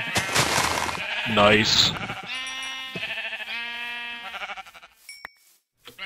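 A gray sheep bleating in Minecraft: several wavering, nasal bleats in a row after a louder burst of sound, with someone talking briefly over the game audio.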